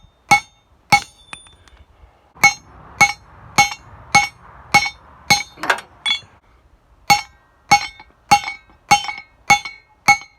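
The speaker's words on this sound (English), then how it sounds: "He would use the cold chisel." A hammer strikes a cold chisel to cut lock pieces for a Sauerman drag line bucket: about fourteen sharp, ringing metallic blows, close and loud, evenly spaced in a steady rhythm with brief pauses and no talking.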